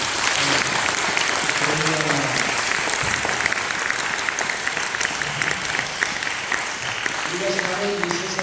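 A church congregation gives sustained, dense applause for newly ordained pastors at a regional presbytery meeting, steady and full throughout, with voices speaking over it at moments.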